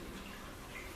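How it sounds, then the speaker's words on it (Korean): Steady running water, a continuous wash of splashing flow heard close and fairly loud for a brief moment, with no voices. "이 물소리 들리시죠?"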